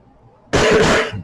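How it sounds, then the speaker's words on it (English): A single harsh, persistent cough from a lingering cold bursts out after a quiet moment, loud and close, ending with a brief rasp. "this cough has been persistent"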